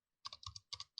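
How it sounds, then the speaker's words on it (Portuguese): Keys on a computer keyboard clack in four quick double-tap bursts, crisp and close with silence between them, while a password field is filled in during web coding. "tá digitando"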